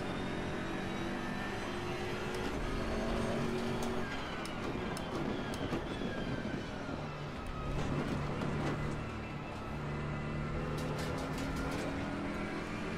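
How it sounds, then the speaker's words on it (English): BMW GT3 race car in Assetto Corsa Competizione, a steady loud engine drone with shifting revs and gear changes, mixed with tire scrubbing noise throughout, no talking. "The engine note partnered with the tire scrubbing,"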